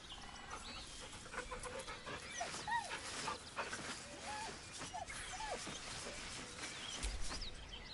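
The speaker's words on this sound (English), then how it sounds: "The dog whimpers nervously," A dog in the video game Baldur's Gate 3 whimpers nervously, with soft high whines and panting breaths repeating over a faint ambient background.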